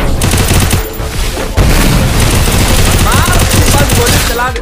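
Rapid bursts of gunfire in the video game Free Fire, loud and continuous with repeated shots and a brief pause partway through, backed by dense game sound.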